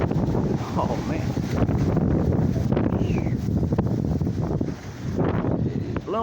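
Strong gusting wind blowing outdoors around trees and a shed with loose metal panels, a loud sustained roar buffeting the microphone, with someone talking over it throughout.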